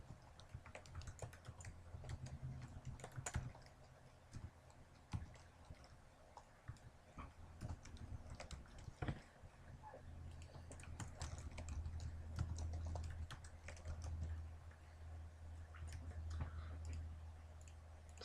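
Keys clack faintly on a computer keyboard in irregular bursts, with scattered sharper taps and quiet pauses between runs, over a low background hum.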